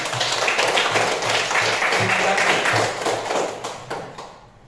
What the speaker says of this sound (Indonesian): Baik, tepuk tangan untuk Noai.